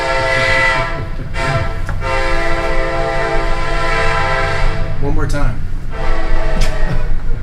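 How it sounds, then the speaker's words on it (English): A passing train sounds its horn in long, loud, sustained blasts over rumbling rail noise, heard inside a Union City, Indiana council meeting, with a few brief spoken words. "Train."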